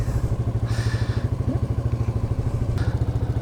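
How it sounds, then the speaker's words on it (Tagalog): A manual motorcycle engine runs steadily and close by, its regular low thumping pulse continuing as the rider works the clutch and gear lever into gear and pulls away with a little throttle. Faint clicks and clatter sound alongside the engine. "pihit ng clutch, tapak sa cambio, sabay release, bigay ng konting gas. Yan, yun, maandar na tayo."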